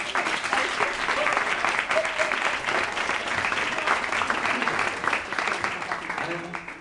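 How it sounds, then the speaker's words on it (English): Wedding guests break into sustained applause for the bridesmaids during a best man speech, a dense even patter of many hands filling the room for several seconds. "So can we have a round of applause for the bridesmaids?"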